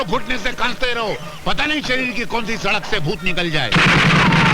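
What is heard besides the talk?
pistol gunshots in a film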